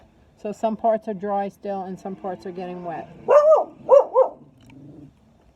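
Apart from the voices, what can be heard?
dog barking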